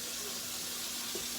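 Tap water runs steadily from a kitchen faucet while vegetables are washed for chicken soup, a soft continuous hiss with no voices.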